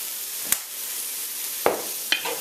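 Shrimp fried rice with oyster sauce and sesame oil being stir-fried in a pan, with a low steady sizzle and three short scraping clatters of a utensil at spaced intervals.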